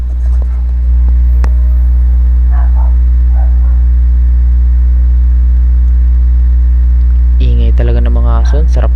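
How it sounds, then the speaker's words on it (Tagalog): Dogs bark and yip in a few short bursts at a distance while a split-type air conditioner is cleaned indoors, nearly buried under a loud, steady mains hum that runs throughout. "Talaga ng mga aso, sarap katayin."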